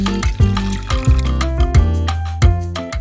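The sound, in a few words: cup of water poured into saucepan of melted butter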